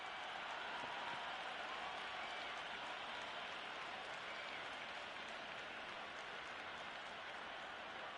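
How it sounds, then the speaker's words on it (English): An excited crowd roars in a cricket management video game, a steady, even wash of broadband cheering and applause-like noise at low level for the whole stretch, with no distinct voices standing out. "Root is hearing it from this excited crowd and surrounding fielders."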